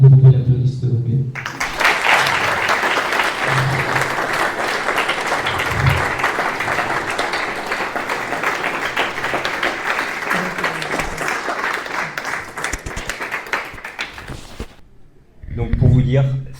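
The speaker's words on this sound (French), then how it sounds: "Si vous voulez, madame, vous pouvez l'applaudir, s'il vous plaît." An audience applauds steadily for about thirteen seconds, a dense sustained wash of clapping that fades out, with a few spoken words just before and after it.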